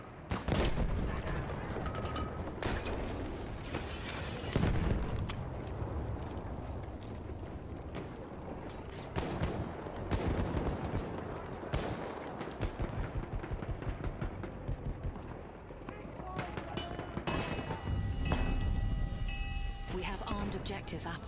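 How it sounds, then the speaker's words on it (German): Automatic machine-gun fire in an objective-based video game played with German voice lines, heard as dense rapid rattling beneath ongoing talk and battle noise. "Maschinengewehr!"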